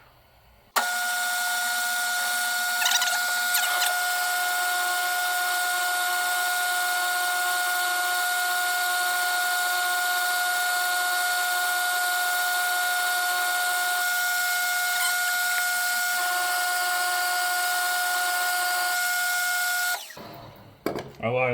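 A lathe turns a walking beam hub at slow speed, giving a steady, continuous motor hum with tonal whine that stays loud and constant for about twenty seconds before stopping.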